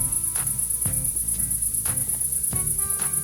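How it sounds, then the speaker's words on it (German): Crickets chirp in a continuous high, pulsing chorus, loud and even, with a few soft low thumps underneath and no voices. "Oder Grillen."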